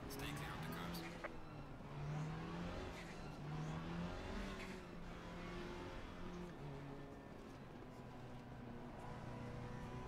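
GT4 race cars at Bathurst in the Assetto Corsa Competizione sim wail and rev through gear changes, engine tones climbing and falling continuously at fairly low level while a commentator talks over them.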